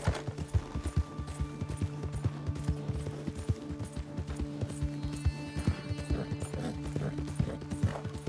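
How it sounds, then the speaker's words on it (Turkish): A horse galloping under its rider in Red Dead Redemption 2 makes quick, rhythmic hoofbeats that continue throughout, with a faint whinny in a busy game soundscape. "At sürüyorum."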